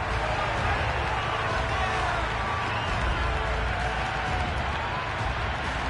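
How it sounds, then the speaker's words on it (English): Stadium crowd roaring in a cricket video game after a hat-trick, a dense continuous wall of cheering that stays loud and even throughout. "That's a hat-trick and the crowd are going wild."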